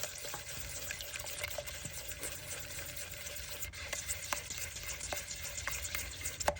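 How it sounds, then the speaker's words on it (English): Powder being stirred into an eco craft pour mix, a steady gritty scraping with scattered small clicks from the mixing tool, continuous and close with no voices. "another scoop of powder in there. Mix that in."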